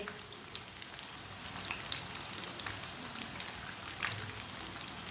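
Potato and moong dal pakoras frying in oil in a pan over medium heat, giving a steady soft crackling sizzle with scattered small pops, fairly quiet and continuous.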